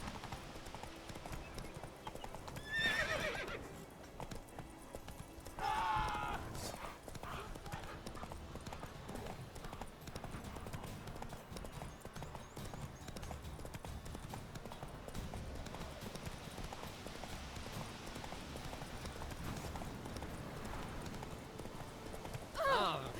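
Roach, a horse in The Witcher 3: Wild Hunt, gallops with steady rhythmic clip-clop hoofbeats throughout, loud and close, with brief snorts or whinnies and voices speaking over the game's ambient noise.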